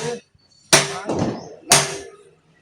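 Three sharp metallic strikes of a hammer on metal ring out at uneven intervals, each a loud clang with a brief ringing decay, close to the listener, during gas welding work.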